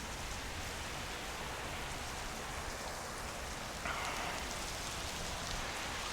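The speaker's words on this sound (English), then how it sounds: "Sit and watch the rain for a moment." Steady rain pours down outdoors in Raleigh, North Carolina, a dense, even hiss that fills the whole stretch, with a slightly brighter patter of drops on a surface joining near the end.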